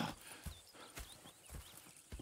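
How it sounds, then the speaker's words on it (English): Horses in the Red Dead Redemption 2 video game, their hooves clip-clopping in a steady walking rhythm with a brief whinny, at moderate distance under game ambience and quiet murmuring. "Go check the horses are ready."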